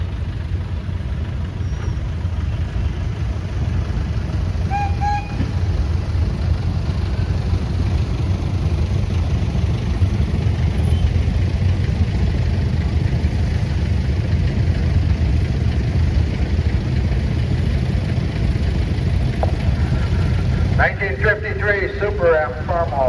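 A 1953 Farmall Super M tractor rolls past in a steam and gas engine society parade, its engine a steady low rumble that holds for the whole stretch while faint voices carry over it.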